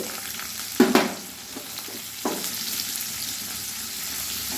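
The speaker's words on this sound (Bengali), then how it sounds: "ডিম ভাজা তেলেই আমি পেঁয়াজ কুচিগুলো দিয়ে দেব" Chopped onions drop into oil left from frying eggs, a loud close splash and hiss followed by steady sizzling with a couple of stirring knocks, no voices.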